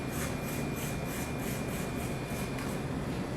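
A fork scraping frozen honey granita, repeated rhythmic rasping strokes close up over a steady background hiss.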